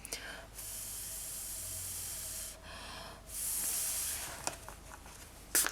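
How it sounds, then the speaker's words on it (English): A spray bottle gives a few quick, close spritzes over a polymer clay pendant, broad hissy bursts separated by short pauses, with small handling clicks at the end. "Give it a quick spritz."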